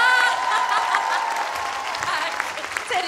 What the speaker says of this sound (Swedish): jag vill också att ni ger en applåd